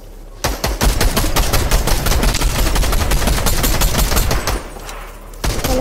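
Dense automatic gunfire in a Fortnite zone wars match rattles loud and continuous for about five seconds, a rapid stream of shots with a brief drop in intensity near the end.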